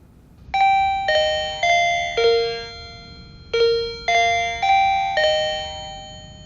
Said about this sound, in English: you will hear a sound from the chime unit when they have connected